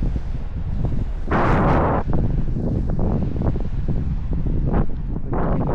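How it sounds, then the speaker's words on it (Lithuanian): Loud wind buffeting the microphone in rough, uneven gusts during paragliding at Lara Bay, Cyprus, with roaring bursts and rumbling low noise throughout. "Biškis pakilo vėjas."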